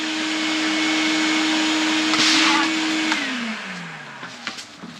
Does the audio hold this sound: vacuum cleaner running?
yes